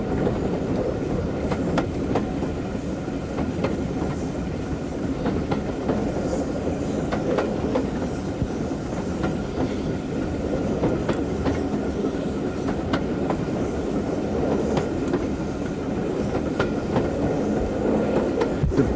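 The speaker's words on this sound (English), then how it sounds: "Beautiful rolling countryside, famous for the Arthurian legends, is seen from the train." A train rolls steadily on rails through rolling countryside in southern Britain, giving a continuous rumble with faint rhythmic clickety-clack of wheels over rail joints, heard from on board and with no one talking.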